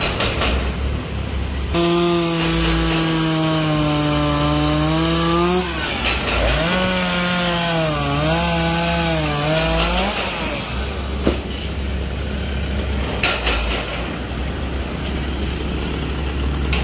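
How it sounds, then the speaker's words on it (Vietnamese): A chainsaw cuts a large Bucida molinetii tree beside a house, its engine loud and close, revving and bogging down steadily as it bites through the trunk, running almost the whole time. "Giờ anh sẽ leo lên cây bàn để anh cưa."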